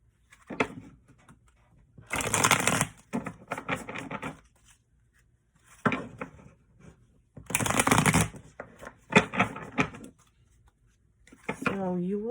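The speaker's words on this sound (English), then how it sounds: "I'm going to shuffle a little bit and change the energy of the cards." Tarot cards are shuffled in several quick riffling bursts with pauses between them, close and fairly loud, with brief softer handling sounds in the gaps.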